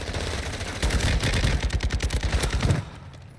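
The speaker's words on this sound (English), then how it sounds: "Why are they using freaking shotguns, bruh?" Rapid bursts of gunfire in the video game Call of Duty Warzone during a tournament match, loud and dense with repeated sharp reports over about two seconds, then cutting off.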